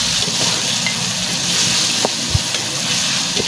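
Chopped onion, tomato and salt stirred with a spoon in a pan, a steady sizzling hiss with faint scraping and a few small knocks, close and fairly loud, no talking.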